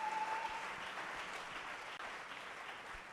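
A church congregation applauds, a faint, continuous patter of clapping that fades slowly over a few seconds, with no voices on top.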